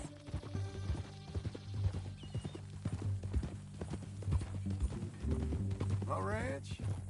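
Horse hooves clip-clopping at a steady walk in the Red Dead Redemption 2 video game, close and clear over a low ambient bed, with a brief whinny-like sound near the end.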